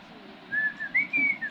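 A pet bird gives a run of clear, high whistled notes, several short tones rising and gliding in sequence, close and fairly loud over soft background noise.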